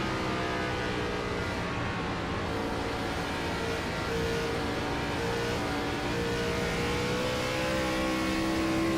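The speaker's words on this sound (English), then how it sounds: "Hear the car rev up as it gets slick off the corner." A race car engine drones steadily at high revs at Rockingham, a loud, continuous whine from a car accelerating hard off a corner.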